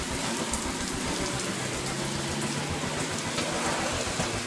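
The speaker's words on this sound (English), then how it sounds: "it's raining so hard that we had to get off the highway" Heavy rain pours steadily and loudly, a dense unbroken roar drumming on a vehicle pulled off a highway during a downpour, with no voices over it.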